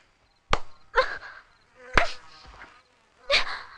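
A few sharp, separate slaps or claps sound close and loud, one after another with short gaps, as someone swats at mosquitoes at night.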